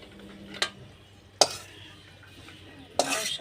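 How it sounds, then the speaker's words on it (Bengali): A metal lid is lifted off a pot of bottle gourd and mustard curry in a home kitchen, giving three sharp clanks spaced about a second apart, with a faint steady background hum and no voices. "এবার ঢাকনাটা খুলে দেবো"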